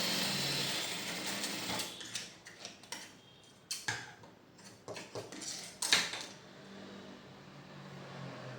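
A sewing machine stitches a shirt collar piece, a fast mechanical ticking run that breaks into short irregular bursts and clicks, close and fairly quiet, with no talking.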